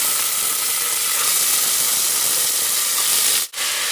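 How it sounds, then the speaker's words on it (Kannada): Black-eyed peas frying in hot oil with mustard seeds and onion for a sambar, giving a steady, loud broadband sizzle and hiss that runs continuously, with a brief drop near the end and no talking. "ಸ್ವಲ್ಪ ಫ್ರೈ ಆಗಬೇಕಾಗತ್ತೆ ಎಣ್ಣೆಲಿ ಹಲಸಂದೆ ಕಾಳು ಹಾಕೊಂಬಿಡೋಣ"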